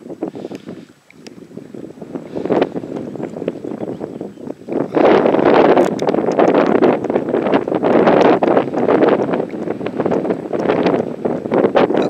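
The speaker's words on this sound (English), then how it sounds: "it's getting windy" Strong wind buffets the microphone on a Scottish coastline, a steady roaring rumble that grows louder and more forceful halfway through and stays heavy to the end, with no voices.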